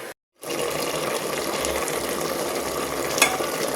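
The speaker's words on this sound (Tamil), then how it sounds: "இப்போ சிக்கனை போட்டு நல்லா வதங்கிக்கிட்டு இருக்கு" Chicken with onion and potato sautéing in a pan makes a continuous sizzle with some watery, bubbling texture after a brief silent gap at the start, close by and without speech.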